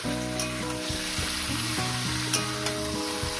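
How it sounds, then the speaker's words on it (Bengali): Chicken and onion frying on high heat in a pan, a loud continuous sizzle with a steady hiss and a humming tone beneath, broken by a few sharp stirring clicks. "পেঁয়াজ চিকেনটাকে দিয়ে আমি হাই গ্যাসেই ভাজবো"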